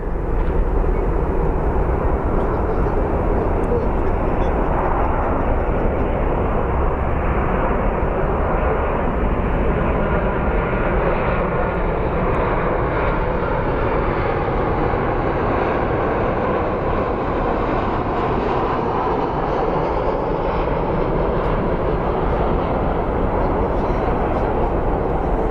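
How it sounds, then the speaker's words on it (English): A Southwest airliner landing at Phoenix Sky Harbor airport produces a loud, steady jet roar that rumbles continuously and evenly throughout. "let's watch this Southwest land"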